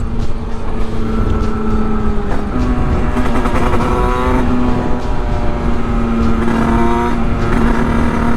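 Small Sherco Supermoto 50 with a big-bore AM6 two-stroke engine riding along, a continuous loud buzzing engine note that holds steady and shifts pitch slightly as the throttle changes, with no talking.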